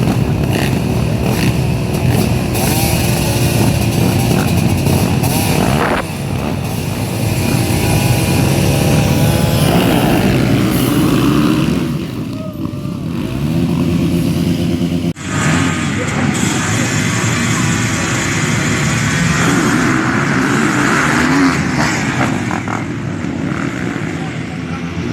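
A motocross motorcycle at full throttle on a jungle track in Chumphon, Thailand, its engine loud and continuous with revving and gear changes, wind rushing past a helmet camera, and someone talking over it.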